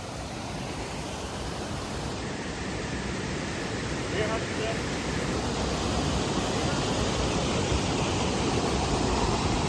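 The waterfall at Jawhar gives a loud, constant rushing roar heard up close, a dense wash of falling water that holds steady throughout with no clear breaks.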